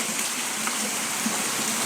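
Rainwater runs off a corrugated metal roof in Ethiopia during the rainy season, a steady hissing pour and splatter, close and even, with no talk.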